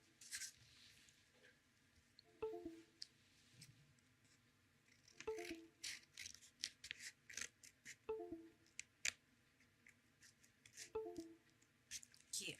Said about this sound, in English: So what you need to do is cut the side you cannot flip.